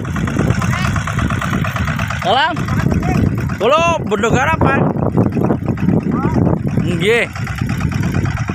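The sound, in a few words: tractor engine idling in peanut field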